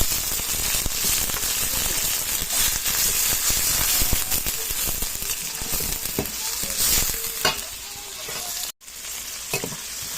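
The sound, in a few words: tomatoes sizzling and being stirred in a pan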